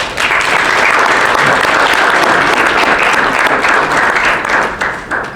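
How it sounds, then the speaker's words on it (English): A breakfast-event audience gives a guest another round of applause, a loud, dense wash of clapping that holds steady for several seconds before starting to thin at the end. "Can we give her another round of applause?"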